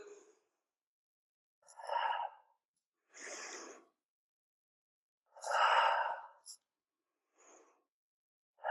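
Slow, audible breaths during a ballet-inspired Pilates circuit with light weights, several soft inhales and exhales a second or two apart, close and quiet, separated by silence.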